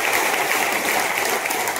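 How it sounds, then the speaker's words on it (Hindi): A roomful of people at a business meeting claps loudly and continuously, a thick, even wash of applause close by with no pauses. "एक बार जोरदार तालियां होंगी"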